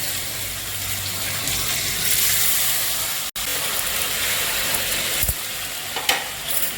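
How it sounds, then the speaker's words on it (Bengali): Potatoes frying in oil in a pan as spice paste is stirred in, a steady close sizzle with scraping stirs, a brief break midway and a few sharper knocks near the end. "এখানে আলু ভাজতে দিয়েছি, এবার আমি মশলাটা দিয়ে দিলাম আলুতে।"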